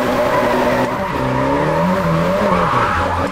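Race car drifting in a JDM-style video game, a sustained loud tire squeal wavering in pitch over a steady engine drone, continuous throughout with no talk.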